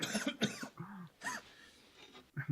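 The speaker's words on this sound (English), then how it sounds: "how long have you had that cough?" A few quiet coughs and throat-clearing sounds, short rough bursts with brief pauses between them, heard close but at low volume.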